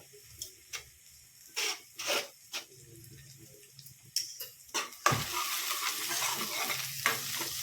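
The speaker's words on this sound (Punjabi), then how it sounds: "ਆਪਣੇ ਪਿਆਜ਼ ਭੁੱਜ ਗਿਆ" Onions fry in a pan, with bursts of stirring and scraping early on, then a loud, continuous sizzle taking over for the remaining seconds.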